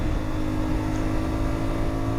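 A CFMOTO 450MT 450 twin motorcycle engine with stock exhaust runs steadily at low revs, a loud, continuous throaty drone close by.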